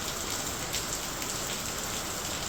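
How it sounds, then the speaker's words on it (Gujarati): Steady rain patters down continuously, a dense hiss of drops on surfaces with no voices. "અત્યારે શરૂ વરસાદ છે"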